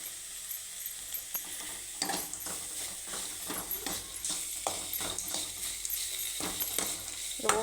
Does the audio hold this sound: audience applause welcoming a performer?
no